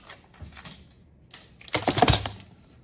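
Scissors snip through paper being trimmed to size for a junk journal, a few quiet crisp cuts followed by a louder burst of snipping near the end, close and alone.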